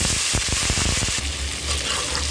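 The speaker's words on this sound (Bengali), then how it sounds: "আদা রসুন ভালো মতো ভাজা হয়ে গিয়েছে।" Ginger and garlic paste frying with browned onions in a pan crackles and sizzles up close, with a few quick stirring scrapes early on over a continuous hiss.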